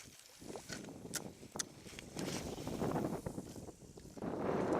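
Wind buffets the microphone outdoors beside an ice-out pond in early spring, a rumbling, gusty roar that swells and grows louder toward the end, with no talking.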